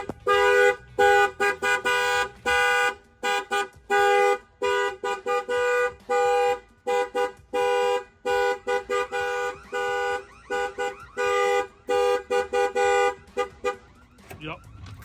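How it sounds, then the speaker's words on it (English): An aftermarket alarm on a 1997 Ford F350 truck blares in rapid repeating honks and tones, loud and close, with short breaks between bursts. "Anybody who opens the doors is gonna set off the alarm."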